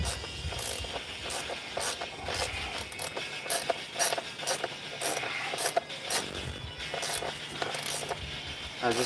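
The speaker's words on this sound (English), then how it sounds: "Okay, 8 millimeter. I'm going to tighten this up." A ratchet tightens an 8 mm bolt on a 2007 KTM 450 EXC motorcycle, giving a long run of quick, evenly spaced metallic clicks up close, with brief pauses between bursts of strokes.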